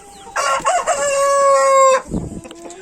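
A rooster crows once, loud and close, a long drawn-out call lasting over a second, followed by brief clucking from laying hens in a garden.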